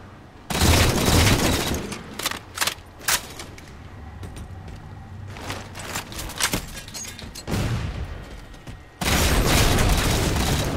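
Halo 4 multiplayer combat erupts with loud grenade blasts and bursts of gunfire, heavy booms at the start and end with rapid shots and smaller impacts in between.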